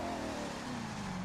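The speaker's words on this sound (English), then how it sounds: "you can actually hear the supercharger as well, which is pretty awesome" Supercharged Corvette C7 ZR1 engine in The Crew 2, a steady loud drone with a rising tonal whine layered over the engine hum, continuous and close throughout.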